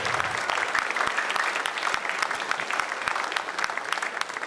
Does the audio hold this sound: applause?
yes